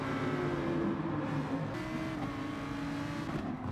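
Gr.3 race car engines at Spa-Francorchamps in GT Sport, a steady loud drone of several cars running close together in a pack, with a shift in engine note partway through and a faint tire squeal.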